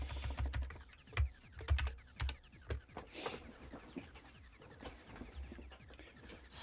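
Typing on an Amiga computer keyboard, with irregular keystroke clicks in quick bursts and short pauses, fairly quiet and close, and no talking.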